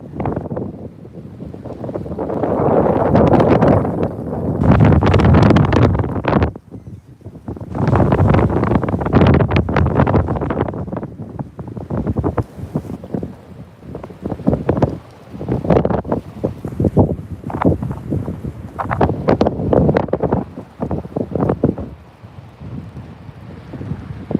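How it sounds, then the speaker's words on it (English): Heavy wind buffets the microphone in repeated rumbling gusts that rise and fall, loud and close, with no talking. "what's not so friendly is these stupid gusts of wind"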